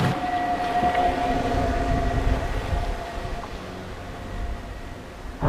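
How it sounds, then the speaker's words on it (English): At slow speed, a Subaru XV e-Boxer hybrid emits its pedestrian warning sound, a steady synthetic whining tone over a low rolling rumble, sustained and fairly close. "But that noise is what the XV makes in slow speed maneuvers"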